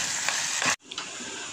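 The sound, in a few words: frying tripe in oil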